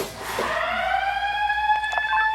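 A fire alarm siren sounds during a PORV-type pre-action sprinkler valve test, a loud, close electronic wail that sweeps upward and then holds a steady tone with strong harmonics.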